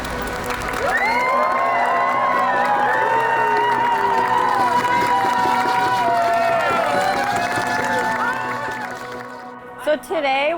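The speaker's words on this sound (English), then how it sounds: "if we could all clap and hoot and holler for it, please" At a canoe awakening outside the Ketchikan Indian Community Hospital, a crowd hoots and hollers for a newly named canoe, with sustained cheering voices and whoops that build, then break off near the end.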